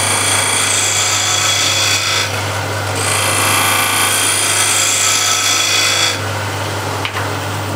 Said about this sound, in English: Now from here it's a little bit easier to use a skew bevel side. You see how it shaves nicely.